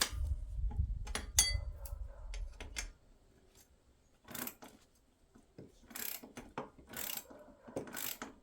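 A ratchet tightens bolts on a Raptor 700 lowering kit, a quick, close, dry clicking in short runs with pauses, after an opening stretch of low rumbling handling noise.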